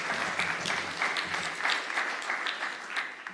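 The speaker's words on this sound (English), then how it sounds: "Round of applause, please." Audience applause at a coral reef resilience symposium, a close, steady patter of many hands clapping with a few sharper individual claps standing out, continuing throughout.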